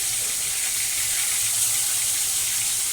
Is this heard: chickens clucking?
no